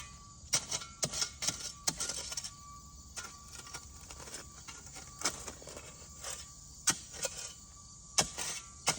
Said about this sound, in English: That's my neighbor's truck making that noise. He backs up.